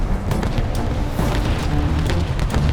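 Torpedo hits in a naval battle video game boom one after another, a dense rumbling roar of layered explosions with sharp crackling bursts throughout.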